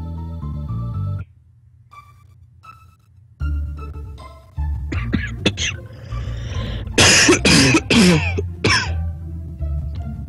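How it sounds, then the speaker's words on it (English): Several sharp, loud coughs and throat-clearing bursts in quick succession, close to the microphone, after a few musical tones. "Nice cough there."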